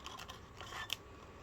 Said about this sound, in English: See how I'm turning the paper instead of the scissors.